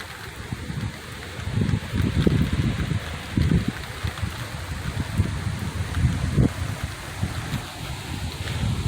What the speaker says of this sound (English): The rain's really coming in down that park.